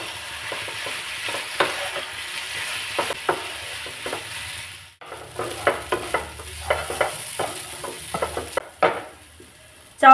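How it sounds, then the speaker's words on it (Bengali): Vegetable chowmein sizzles in a pan while being tossed and stirred, with frequent clattering spatula scrapes over a steady frying hiss, a brief lull midway, and a loud knock at the end; no voices. "ভালো করে নেড়ে নেব।"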